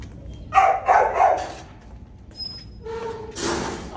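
A dog barks three times in quick succession nearby, followed by softer yips and whines.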